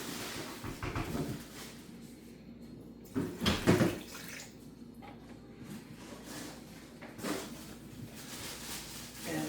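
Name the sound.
white vinegar being poured into bacon brine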